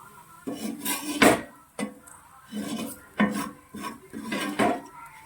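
Fried clams being scraped and spooned from a pan into a vessel while making clam pickle: repeated metallic scrapes and clinks of a spoon against pots and dishes, in bursts with short pauses, close and fairly loud, no talk.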